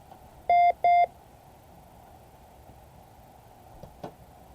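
A pure-tone Morse code signal sounds as two short, loud beeps in quick succession, followed by near silence with faint background noise and a soft click.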